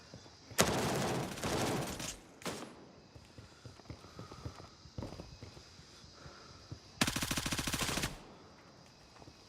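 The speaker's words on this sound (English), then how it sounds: "They're shooting through windows." Gunfire in the shooter game Gray Zone Warfare: two long bursts of rapid automatic fire, with a short burst between them, separated by quieter stretches of scattered clatter and movement.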